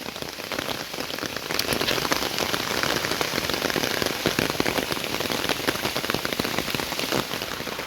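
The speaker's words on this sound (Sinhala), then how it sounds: "තාමත් වහිනවා" Monsoon rain pours steadily along the Kelani Valley railway line near Arapangama station in Sri Lanka, a dense, even hiss of drops drumming on surfaces with no pauses or voices.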